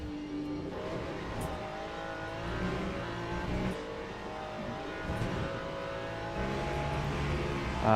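A Ferrari LMGT3 race car engine in the Le Mans Ultimate racing game drones steadily under load, its pitch rising and falling with gear changes.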